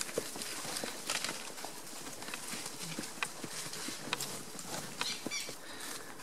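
Hooves patter softly and steadily on the ground while a rider rounds up cows on horseback outdoors, faint and fairly distant with light irregular clopping throughout.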